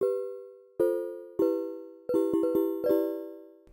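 A bell-like tone from an Ableton stock synthesizer rings out repeatedly, each strike decaying slowly, starting sparse and then quickening into a cluster of rapid chimes.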